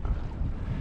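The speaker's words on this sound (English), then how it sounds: "It's a bit windy, but whatever, it's worth it." Wind gusting across open water beside a kayak near the mouth of Boggy Creek in Brisbane, a brief, steady, rumbling buffet with no voices.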